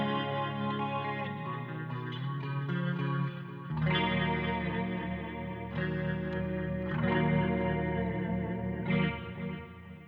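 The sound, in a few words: Arundel Reverend electric guitar, bridge humbucker with neck coil split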